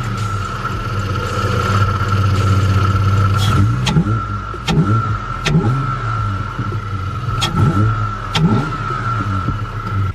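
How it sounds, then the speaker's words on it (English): Ford Falcon FG XR6 engine cranks and fires, then revs in several sharp bursts with audible intake noise, settling between blips to a steady idle with a constant whine; loud and close, no talking. "I'll start it now so you guys can hear that"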